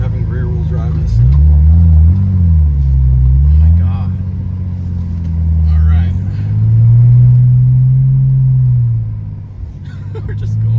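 BMW E46 fitted with a Turner Motorsports valved catback exhaust rumbles deep and steady while maneuvering at low speed, its pitch rising and falling with light throttle, under occasional nearby talk.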